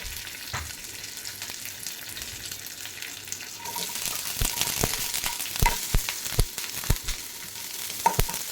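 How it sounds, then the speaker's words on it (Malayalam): Chopped onion drops into hot oil already holding dried red chillies and curry leaves for a green bean thoran, the sizzle swelling louder midway, with repeated scraping stirs and clacks against the pan. "ഇനി നമുക്ക് അരിഞ്ഞു വെച്ച സവാള ഇട്ട് കൊടുക്കാം"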